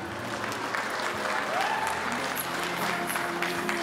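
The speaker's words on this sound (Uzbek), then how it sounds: "Juda ham chiroyli qarsaklar" Wedding guests applaud the mothers of the couple, a steady burst of clapping from a sizable crowd that stays even throughout, with a brief tonal sweep and a little murmuring mixed in.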